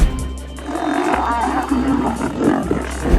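A lion in the African bush roars deep and continuous, with rumbling low tones holding steady for several seconds and no pause.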